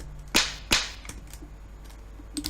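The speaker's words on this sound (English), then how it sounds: "That's a sound of me squashing the top of the container." Two sharp crisp cracks in quick succession, close by, followed by a few softer clicks and crinkles as a plastic lid is pressed down.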